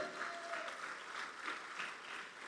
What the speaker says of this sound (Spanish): Démosle fuertes las palmas al Señor.